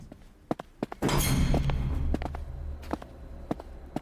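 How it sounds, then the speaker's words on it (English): Footstep sound effects in an audio drama set outdoors in mud: a run of evenly spaced, similar-sounding thudding steps, close and moderately loud, with a brief rushing burst of noise in the middle. "those footsteps sound a little samey"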